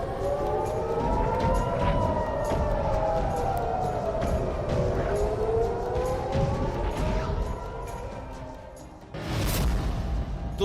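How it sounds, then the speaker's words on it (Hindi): Air raid sirens wailing over Israeli cities, several long rising and falling tones overlapping, loud and sustained, with a brief burst of noise near the end. "एक बार फिर सायरन से गूंज उठे इजराइल के शहर।"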